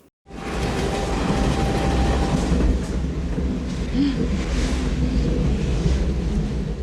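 A train travels into Provence in the film French Kiss, a steady loud rumble and rolling rail noise filling the clip after a sudden start, with faint clatter on top and no clear speech.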